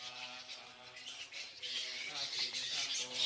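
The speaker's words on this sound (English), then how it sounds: "During the day, they hang out by roosting in trees, wings wrapped around their body, squabbling noisily and fanning themselves when hot." Hundreds of flying foxes, among the largest bats in the world, squabble noisily while roosting in big trees, a dense, continuous chorus of shrill squawks and chattering cries.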